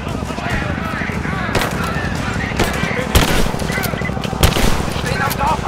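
Gunfire in the video game Rise of the Tomb Raider: a dense, loud stream of rapid shots and heavier bangs rattles on continuously, with voices mixed into the fighting.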